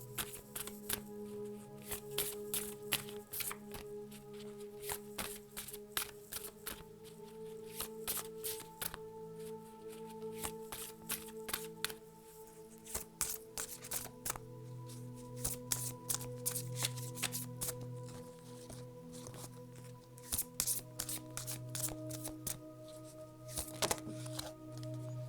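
Tarot cards shuffled by hand in a long, steady run of rapid riffling and slapping, close and continuous with short pauses, with no talking.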